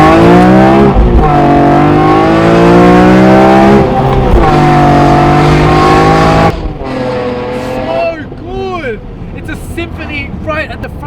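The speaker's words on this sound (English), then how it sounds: "It just doesn't want to stop pulling. It just goes and goes and goes. This naturally aspirated engine." A BMW E46 M3 with a naturally aspirated engine revs hard and loud under acceleration. The pitch climbs through one gear, dips briefly at a shift, pulls again, then drops off as the throttle lifts.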